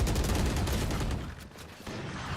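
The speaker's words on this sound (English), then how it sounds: "See a lot of gunfire here." Rapid gunfire from the tactical shooter Valorant during a collegiate esports match, dense overlapping shots sustained and loud across the whole stretch with a brief dip midway.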